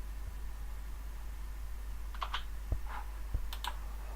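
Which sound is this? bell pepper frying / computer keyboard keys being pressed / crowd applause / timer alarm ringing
computer keyboard keys being pressed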